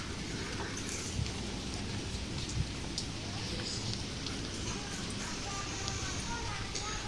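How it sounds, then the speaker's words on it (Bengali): Steady rain falls outside a leaky house on a wet day, a dense continuous patter with scattered drips that stays at an even level for the whole stretch, with no talking over it. "এরকম বৃষ্টি পড়তেছে আর কি"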